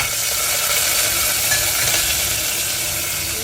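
Green chillies sizzle and fry steadily in a hot pan while being stirred for a tomato roti pachadi, a dense, continuous crackling hiss close by with no talk.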